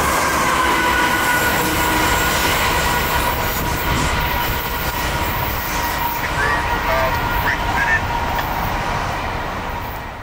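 Norfolk Southern freight train with auto racks rumbling steadily past, a continuous loud roar of wheels and cars with faint squeals, slowly easing toward the end.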